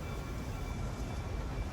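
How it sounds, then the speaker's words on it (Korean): Steam locomotives fill a busy train station in the video game The Great Ace Attorney, heard as a continuous, dense low rumble and hiss with no voices. "증기 기관차가 저렇게나 많이."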